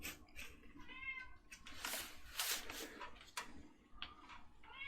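A cat meows softly a few times, quiet and somewhat distant, with light household rustles and clicks in between.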